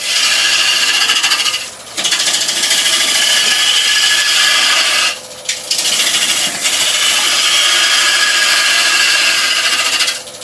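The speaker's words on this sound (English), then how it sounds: "Is that the AT406 lathe? It is, yeah, it's the 406." An AT406 wood lathe runs loud and close while UK fan palm is turned, giving a continuous harsh whirring and tool-on-wood scraping roar broken by two brief pauses.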